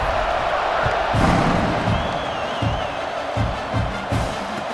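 Stadium crowd cheering in EA Sports College Football 26 during a kickoff, a broad steady roar of many voices with swells and rhythmic low thumps, loud and continuous throughout.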